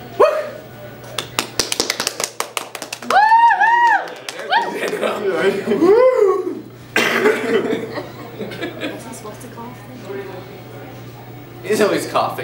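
A short cough cuts through a noisy room where a dog barks and people chuckle and talk nearby.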